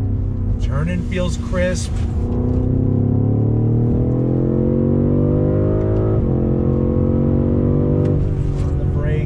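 A 2021 BMW M550i sedan accelerating on throttle: a loud, steady engine drone whose pitch climbs smoothly, eases back, then climbs again through the gears, with someone talking over it from inside the cabin.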